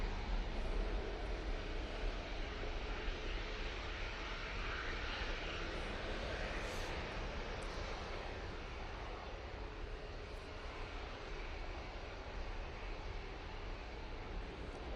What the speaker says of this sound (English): Easyjet A320 CEO off to Barcelona now.